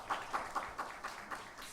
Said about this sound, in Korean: 다시 한번 격려의 박수, 감사의 박수 하겠습니다